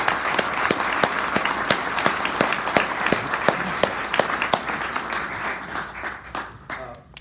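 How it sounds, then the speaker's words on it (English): Audience applause for folklorist Dr. Barry Ancelet, a steady crowd-wide clapping at moderate loudness with sharp individual claps standing out, tapering slightly at the end. "Y'all give a big round of applause for Dr. Barry"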